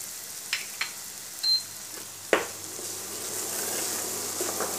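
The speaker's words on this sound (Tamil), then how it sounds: "நல்லா ஒரு ஒரு 5 மினிட்ஸ் அந்த மாதிரி வதக்கி பார்ப்போம்" Amla gooseberry pickle (thokku) with salt being sautéed in hot oil in a pan: a steady, close sizzle with a few sharp stirring taps, no voices.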